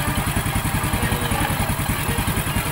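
A Honda XRM110 motorcycle idles during carburetor tuning, its single-cylinder engine putting out a steady, rapid, even chugging, close and loud with no other sounds.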